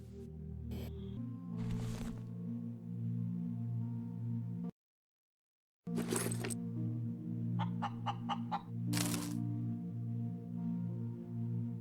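Chicken clucking in the space-survival game Breathedge, a few short clucks and a quick rapid burst of pecking clicks over a steady low game hum, with a brief silent gap midway.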